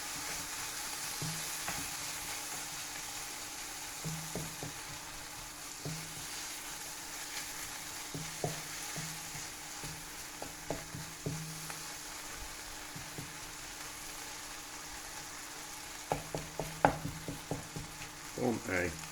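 Cheese melts and sizzles in a frying pan with a soft, steady hiss, broken by scattered clicks and scrapes as it is pushed around, the clatter building toward the end. Fairly quiet, close, with no talk.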